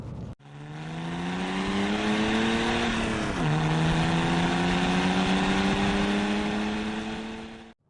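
A BMW E90 330d with the pre-facelift M57 3.0-litre diesel engine revs up in a rising throaty drone, dips briefly as it shifts, then climbs again before cutting off, loud and close.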